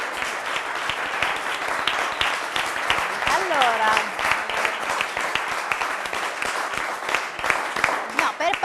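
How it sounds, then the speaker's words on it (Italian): Applause from a studio audience on an Italian quiz show, moderate scattered clapping running throughout under continuous talking and a brief spoken word. "facciamo un applauso, salutiamo anche noi"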